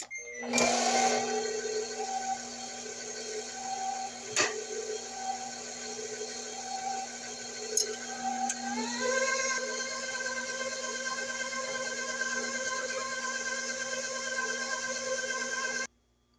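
A stand mixer runs on second speed beating a maple walnut cheesecake batter, a steady mechanical whir that shifts pitch partway through and stops abruptly at the end, with occasional knocks.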